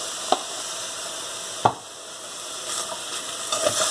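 Zucchini sautés in a pan with homemade seasoning, giving a close, continuous sizzle broken by a few sharp spoon or spatula knocks against the pan.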